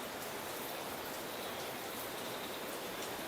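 Rain falls steadily at night as a dense, even hiss of drops on surfaces, constant and moderately soft throughout, with no voices.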